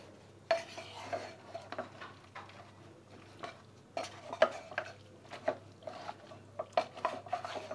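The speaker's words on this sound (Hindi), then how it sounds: "एक बार हम मिक्स करेंगे।" A spoon scrapes and clinks against a pan while coriander and cumin powder are stirred into mutton on a low flame, making soft, irregular taps and rubs close by with no talking.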